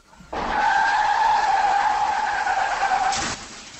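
A man vocally imitates a car skidding into a traffic accident, producing a sustained squealing screech of about three seconds that stops abruptly with a short noisy burst at the end.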